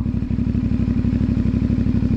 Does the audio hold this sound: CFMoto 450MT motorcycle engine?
yes